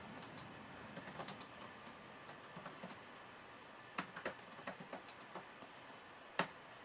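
Key presses on an old mid-1980s computer keyboard, tapped in short irregular bursts as line numbers are entered, quiet and close with gaps between clusters and a few sharper single strikes.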